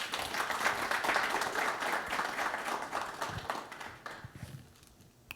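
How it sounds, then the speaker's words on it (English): An audience at an evening panel event gives a round of applause, steady dense clapping that gradually fades toward the end. "So give yourselves a round of applause"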